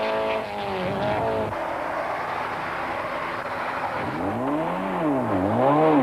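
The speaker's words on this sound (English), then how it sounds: "the Ford of Sarel van der Merwe blasts past the stranded Toyota" Ford rally car driven by Sarel van der Merwe blasts past a stranded Toyota on a 1992 Swartland Rally stage, engine note rising and falling loudly with Doppler sweeps as cars roar close by, no talk.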